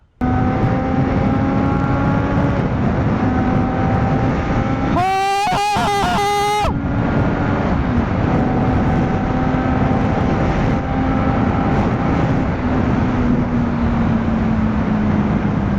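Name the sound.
triple-cylinder motorcycle revving while riding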